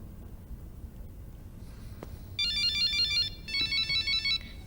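A telephone rings with two bursts of electronic trilling tones, loud and clear over a low background hum, following a brief softer tone.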